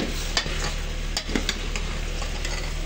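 Onions and chillies frying in a pan of oil, a steady close sizzle with a few soft stirring clicks and ticks, with no one speaking.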